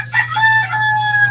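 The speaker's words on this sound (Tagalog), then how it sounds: "Ang galing ng manok." A rooster crows once, loud and close, in a single drawn-out cock-a-doodle-doo lasting over a second over a low steady hum, with no voices.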